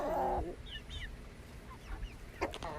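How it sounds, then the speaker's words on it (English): Young chicks about 9 to 13 weeks old cluck and peep softly outdoors while scratching through thrown feed, with brief chirps scattered over quiet background and a louder squawk at the start. "here are my bigger chicks enjoying their little scratch that I threw out for them to distract them"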